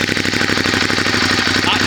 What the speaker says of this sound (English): Now we're going to move on to the Monster 821 stock exhaust cold start.